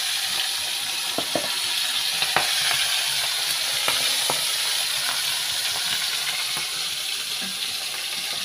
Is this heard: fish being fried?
yes